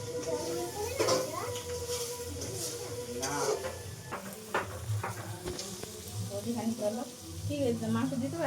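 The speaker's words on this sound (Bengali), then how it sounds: "এখন মশলা কষানো হয়ে গেছে" Spices for a meat curry sautéing in a pan, a close, continuous sizzle with stirring scrapes and clinks, while a person talks over it.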